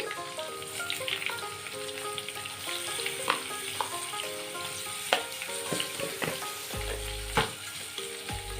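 Chopped garlic dropped into hot oil with potatoes frying for a potato, onion and paneer curry, giving a continuous close sizzle broken by occasional spatula scrapes and a couple of louder crackling bursts.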